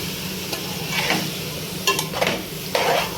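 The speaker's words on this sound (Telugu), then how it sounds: "అదే ప్యాన్లో కట్ చేసుకున్న టమాటా ముక్కలు వేసి ఉడకబెట్టుకోవాలి" Chopped raw tomato pieces cooking in a pan, a soft continuous sizzle with a few scraping stirs of a spoon against the pan.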